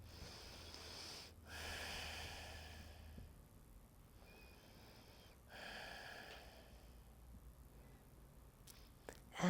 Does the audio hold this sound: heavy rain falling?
no